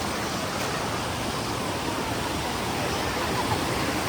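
Waterfall at Adai village near Panvel, a steady broadband roar of falling water that stays loud and unbroken throughout, with no other sounds standing out.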